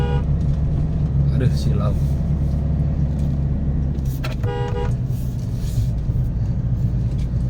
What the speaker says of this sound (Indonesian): akan terus-terusan klakson seperti ini setiap kali ada tikungan untuk memperingati kendaraan dari arah yang berlawanan